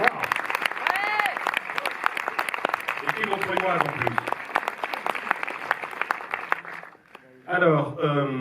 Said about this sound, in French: Julie Rhône, qu'on peut applaudir